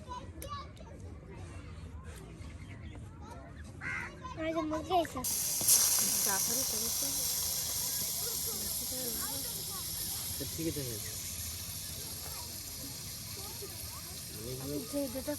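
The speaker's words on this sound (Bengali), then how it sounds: "মাছের তেলে মাছ ভাজা" A broad, steady sizzling hiss of pangas fish frying in hot oil rises and continues, with people talking over it, outdoors on a riverbank.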